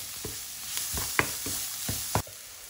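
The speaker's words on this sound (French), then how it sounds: "Je mélange bien l'ensemble." Minced meat with paprika being stirred in a frying pan, a soft sizzle under a series of sharp scraping knocks from the utensil against the pan, roughly twice a second, close and moderately loud.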